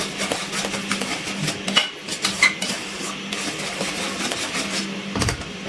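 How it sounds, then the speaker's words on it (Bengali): Mango pickle being stirred continuously in a pan over a low gas flame, a steady run of soft metallic scrapes and clinks from a spoon against the pan, close and even throughout. "অনবরত নাড়াচাড়া করছি।"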